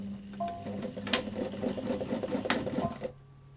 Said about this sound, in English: we're going to start by going forwards and backwards on a straight stitch just to lock the thread.